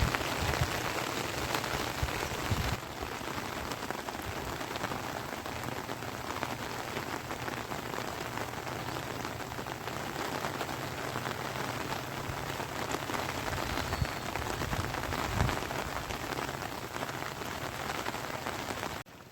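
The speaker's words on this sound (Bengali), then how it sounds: "সকাল থেকে ভালোই বৃষ্টি হচ্ছে" Steady rain falls on a Sundarban river and a fishing boat, making a dense, even hiss of drops that holds unbroken and fairly close for the whole stretch, with no speech.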